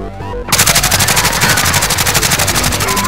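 Rapid automatic gunfire in Call of Duty: Warzone-style battle royale match, a fast steady stream of loud shots rattling on for about three seconds after a brief lull, close and dominant with no talk.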